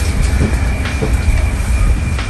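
A passenger train near central Geneva runs along with a loud, steady low rumble and faint rattling heard from inside the carriage, with no talking.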